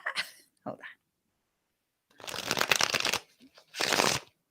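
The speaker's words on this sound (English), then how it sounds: "Oh, I want to shuffle it some more." Deck of tarot-style reading cards shuffled by hand, two separate bursts of close riffling after a few short handling sounds, with no talking.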